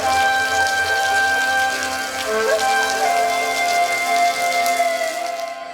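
A small Ozarks waterfall trickles on an autumn trail, giving a steady, close, rain-like patter of falling water that holds even throughout with no voices.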